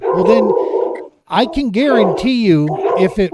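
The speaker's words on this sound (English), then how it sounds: "Oh, we got dogs." Dogs bark and yip in bursts behind people talking on a podcast, the barks rising and falling in pitch and partly buried under the conversation.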